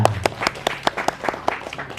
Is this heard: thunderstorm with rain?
no